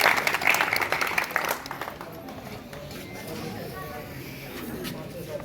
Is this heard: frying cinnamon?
no